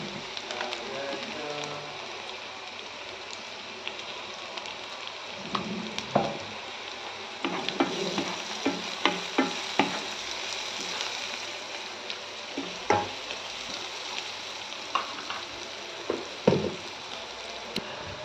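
Curry leaves, green chillies and asafoetida frying in hot oil give a soft, steady sizzle with scattered crackles and pops that pick up partway through, heard close and fairly quiet.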